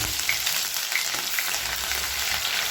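Grated ginger fries in hot oil with crackling mustard and cumin seeds, a loud, close, busy sizzle with small pops scattered throughout and no talk.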